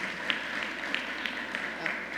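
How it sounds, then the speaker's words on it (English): Applause for partners at a governor's bill-signing event on SNAP benefits for prepared meals, heard as a steady broadband wash of clapping across the whole stretch, moderately loud with scattered sharper claps standing out. "let's give all of our partners a round of applause"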